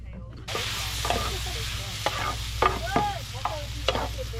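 Onion, peppers, garlic and tomato frying in oil with fajita seasoning at a campsite, a steady sizzle with repeated scrapes and stirs of a utensil in the pan, close and continuous.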